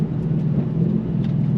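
A 2024 Ford Mustang Dark Horse V8 holds a steady low rumble, moderately loud and continuous, like cruising engine drone with no talk over it.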